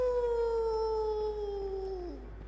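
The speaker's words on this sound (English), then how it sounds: "He also likes to randomly howl." Micolash, a boss in the video game Bloodborne, lets out a single long, wavering howl that slowly slides downward in pitch and trails off, heard alone and fairly loud.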